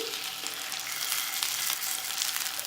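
Chicken kalmi or tangdi kebabs fry in a pan while being turned, making a continuous bright sizzle with light stirring movement.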